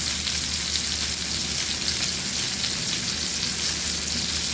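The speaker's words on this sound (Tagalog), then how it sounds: "hayaan muna natin siya hanggang sa mag-brown yung ibabaw" Chicken pieces browning in a pan produce a dense, even sizzle from start to finish, a close, steady hiss with no pauses and no voices.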